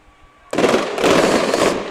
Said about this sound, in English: That's right, we're seeing some fireworks right here.